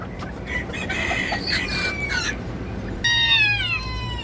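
A bantam chicken clucks and squawks close by, with a string of sharp, excited cackles that rise into a louder call near the end.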